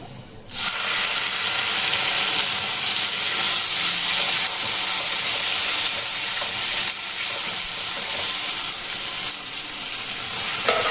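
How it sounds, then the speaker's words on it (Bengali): Ground spice paste for a paneer masala curry drops into a hot pan and fries with a loud, continuous close sizzle, overlaid with light scraping of a stirring spoon. "এখন দেখুন দিয়ে দেবো এবার আমি এই যে বেটে রাখা মশলা"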